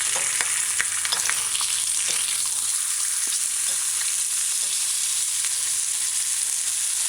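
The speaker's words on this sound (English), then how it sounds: "Allow it to fry for a little while and then flip your arm on the other side." Ham frying in a small pot on medium-low heat, a steady, close sizzle with occasional crackles and pops, no talking.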